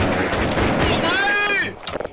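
Counter-Strike gunfire cracks in loud bursts under an excited voice shouting over the action, then the shots thin out into a few sharp reports.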